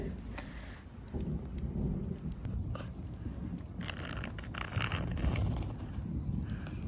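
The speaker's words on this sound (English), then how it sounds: "It's barely even raining anymore." Light rain falls in a video game, a soft continuous hiss and patter with low rumbling underneath, fairly quiet and steady throughout, with no voices.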